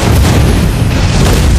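A loud, dense explosion booms as a turret is destroyed in Mobile Legends: Bang Bang, a short, heavy rumbling blast that fills the whole moment without any voices.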